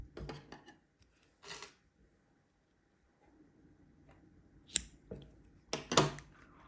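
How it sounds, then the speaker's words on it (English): Scissors snipping crochet yarn strings, a few short sharp close cuts separated by pauses, with light handling rustle between them, quiet and without talk. "We can cut our strings."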